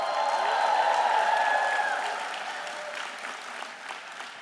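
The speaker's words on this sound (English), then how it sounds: "Let me hear a big cheer if so." A large crowd at a university convocation ceremony cheers and applauds loudly, the roar peaking early then gradually fading while clapping continues.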